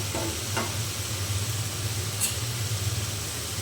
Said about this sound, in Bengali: এখন আমি এই যে ভেজে রাখা আলু আর ফুলকপি দিয়ে দিলাম